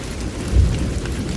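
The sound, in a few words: heavy rain with thunder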